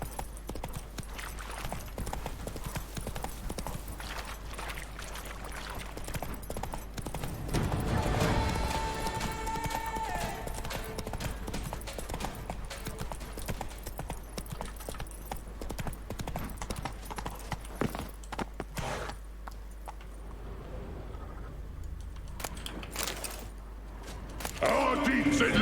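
Hooves of a horse in The Witcher 3 beat in a steady rhythm under a constant game background and music, with a louder burst partway through and quieter stretches toward the end.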